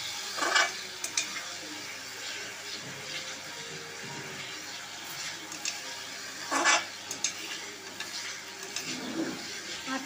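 Masala spices fry in a pan for a spinach curry, giving a steady soft sizzle throughout with occasional louder stirring scrapes and clinks near the start and toward the end.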